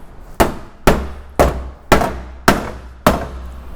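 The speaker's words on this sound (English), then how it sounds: "Some people will take a hammer and you can just gently tap across it and see what parts of the metal give." A hammer taps six times at an even pace on the rusty cab floor metal of a 1969 Chevrolet C10, each strike a sharp, close, loud knock with a short ringing decay.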